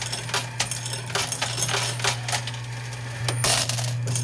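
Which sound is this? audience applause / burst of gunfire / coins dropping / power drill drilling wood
coins dropping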